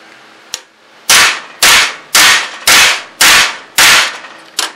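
Hammer blows knocking down protruding pieces on a homemade router copy machine: one light tap followed by six loud, sharp, evenly spaced strikes, close up with no talking.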